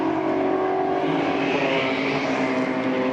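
GT4 race cars accelerate out of the pit lane at Phillip Island, a loud continuous engine roar with a slowly shifting pitch, steady and close throughout.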